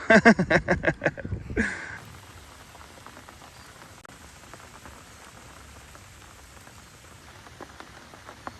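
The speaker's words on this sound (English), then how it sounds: "Bit of rain." Rain falls outdoors at a fishing spot, a steady soft patter of drops with scattered sharper taps, following a few seconds of a louder rhythmic sound at the start.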